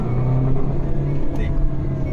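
A moving car whose engine mounting is at fault, making a noise like a leaking turbo pipe: a continuous engine rumble with a brief whooshing burst partway through, while someone talks over it.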